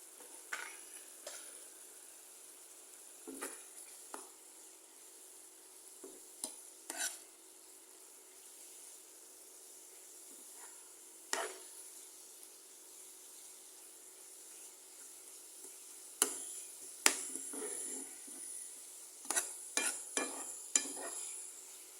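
Chepa shutki, a dried fish, cooks with turmeric, chili and coriander in a pan, giving a faint, steady sizzle broken by sporadic clinks and scrapes of stirring that grow busier toward the end.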